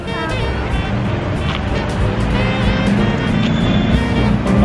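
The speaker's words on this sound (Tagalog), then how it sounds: "Traffic, Papa. Traffic pa." Steady, loud road traffic with running vehicle engines in a slow jam in Davao, a continuous close rumble with no pauses.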